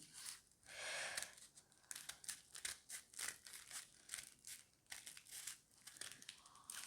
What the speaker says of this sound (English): I am cutting the curvature here.